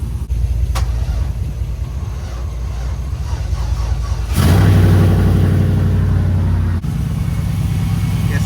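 A car that had a gas leak fixed, jump-started, turns over and fires up, then settles into a steady loud idle close by, with a rough revving surge midway and no talk.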